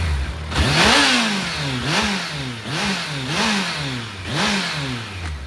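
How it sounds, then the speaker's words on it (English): A stock 2020 Kawasaki Ninja ZX14R revved up several times in a row, each blip rising sharply then falling back to a close, loud idle in a steady rhythm. "let me give you guys a couple revs here"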